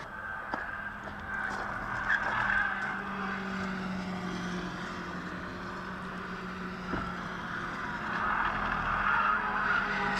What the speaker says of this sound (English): So there's some close racing going on.